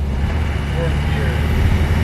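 A 1990 Land Rover Defender 110 with the 200tdi diesel climbs a hill in fourth gear, its steady low engine drone and road rumble continuous and close throughout, with speech likely mixed faintly underneath.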